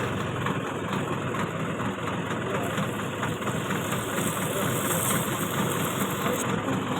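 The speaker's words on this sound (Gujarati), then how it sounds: "ચાલુ કરીશું ટ્રેક્ટર અને ચાલુ કરશું ફુવારો." A farm tractor engine runs steadily at idle, powering a pump and sprayer for pesticide in a field, with a continuous low rumble and knocking throb throughout.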